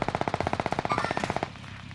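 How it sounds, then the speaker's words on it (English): Rapid automatic gunfire in a multiplayer video game, a fast even burst of about two dozen shots lasting roughly a second and a half, close and punchy, then cutting off into a low background hum. "Getting shot from Deacon."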